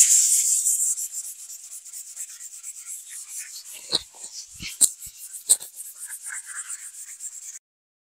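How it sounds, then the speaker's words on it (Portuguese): Dry, raspy strokes of 220-grit sandpaper scrub across a textured 3D styrofoam wall finish, loud at first, then softer repeated rubbing with a few sharp knocks. "Já comecei a lixar. Pessoal, lixa 220."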